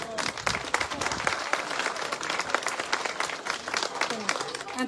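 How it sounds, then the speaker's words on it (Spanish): A crowd applauds at an outdoor street inauguration with the mayor and governor, dense, steady clapping lasting several seconds, with voices mixed in. "Fuerte el aplauso."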